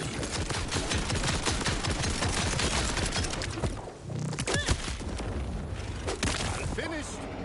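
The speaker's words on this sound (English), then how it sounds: "Just shooting and looting and shooting and looting." Gunfire in the video game Borderlands 4 as loud, dense rapid bursts of shots and impacts running almost continuously, with a brief dip midway and a voice mixed into the busy game sound.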